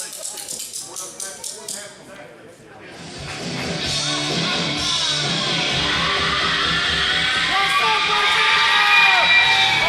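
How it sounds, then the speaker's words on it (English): A crowd at a wrestling event erupts into loud cheering, yelling and whoops after a moment of quieter sound with a voice. The roar swells and then stays dense and sustained, and it sounds big and echoing. "Listen to that crowd erupt."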